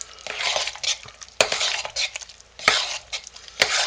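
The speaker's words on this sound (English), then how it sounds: "We got to keep stirring till we get that opaque look back." A spoon stirring hot process soap in a pot, a few rhythmic scraping strokes with light clinks against the side, close and alone.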